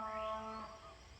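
A single faint, drawn-out moo rises and falls, heard at a distance in a quiet suburban farm setting in Chiang Mai in the morning.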